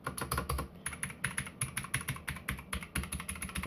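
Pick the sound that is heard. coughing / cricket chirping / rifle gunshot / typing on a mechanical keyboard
typing on a mechanical keyboard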